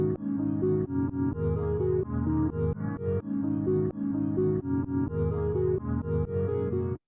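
A chopped, resampled song loop sliced into short stuttering segments, with abrupt cuts every half second or so, played loud and continuous with no voices.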